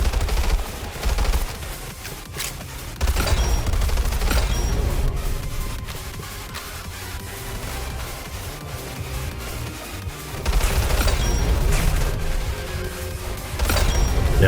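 Rapid sniper-build gunfire in Weird Gun Game, with dense bursts of repeated shots in heavy clusters near the start and again near the end, a steadier run of fire between them, loud and continuous throughout.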